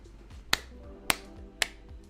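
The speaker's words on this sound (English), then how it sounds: "I'm giving you guys the clap." Three sharp, crisp claps ring out at an even, slow rhythm over faint background noise.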